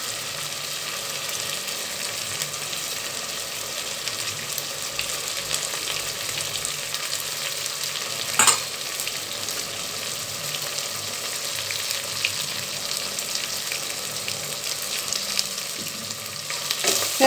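Coriander and mint leaves sauté with ginger garlic paste in hot oil for a fish biryani, giving a steady, close, crackling sizzle throughout, with a single sharp clink of a stirring utensil near the middle.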